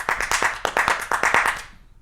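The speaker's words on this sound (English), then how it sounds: "Give me that clap" Audience clapping during a live comedy stream, about a dozen sharp, close, loud claps in a quick uneven rhythm, fading out at the end, with no talk over it.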